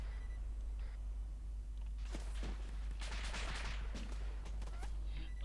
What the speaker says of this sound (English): Shooting at us now